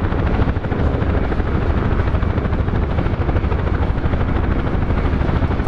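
A UH-1H Huey helicopter in the DCS World flight game flying steadily, its loud continuous rotor thump and turbine roar filling the whole stretch at an even level with no voices.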